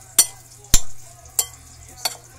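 Kinilaw raw fish being mixed with tomato, onion, ginger and chili in a bowl: four sharp, close clinks and scrapes of a utensil at uneven intervals, with a quiet background in between and no talking.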